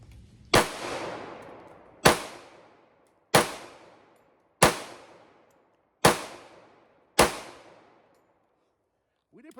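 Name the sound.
Remington 1911 R1S pistol shooting hollow point rounds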